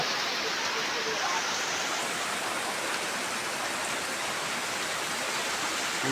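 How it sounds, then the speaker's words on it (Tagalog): Steady, dense rain pours continuously, a broad hissing wash with no breaks, while water drips indoors through a leaking roof. "Dito po sa amin ay umuulan"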